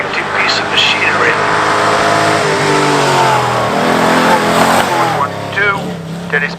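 A vintage racing car, number 108, accelerates hard up the Prescott hillclimb, its engine revving loudly through rising and falling gear changes over several seconds, with a commentator's voice heard alongside.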